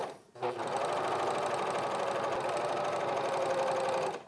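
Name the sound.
serger overlocker sewing raincoat hoodie pieces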